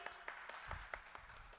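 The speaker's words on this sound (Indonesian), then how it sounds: "Berikan tepuk tangan untuk Shelly." Scattered applause for a child during a virtual Sunday school session: a few sharp, separate claps at an uneven pace, quiet and thin, as if from only a handful of people.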